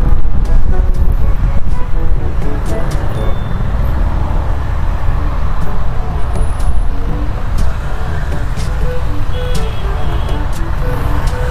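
Stuck traffic on a road in Indonesia, cars and buses idling and creeping in a jam, with a steady low engine rumble and occasional brief hiss, continuous and close throughout.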